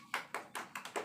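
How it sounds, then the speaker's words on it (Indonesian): A small class claps for a student group during a microteaching math lesson, a brief burst of hand claps close by with about six distinct slaps in an uneven rhythm. "Tepuk tangan untuk kelompok 1."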